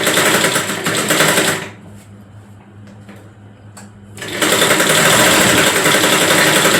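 A sewing machine stitches a half-inch tuck in a blouse. The motor runs loud and steady for the first seconds, stops for a quiet pause with a few faint clicks, then starts again as a continuous whirring run.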